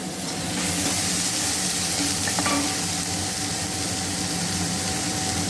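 Cauliflower poriyal ingredients fry in a pan with a kitchen chimney fan running, making a loud, constant, hissing sizzle with a faint clink partway through.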